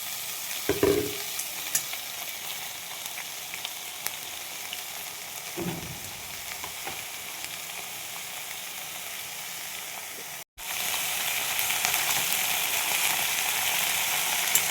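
Drumstick flowers go into a pan of fried potatoes with a continuous loud sizzle. Stirring scrapes come and go over it, and there is a brief cut-out near the end.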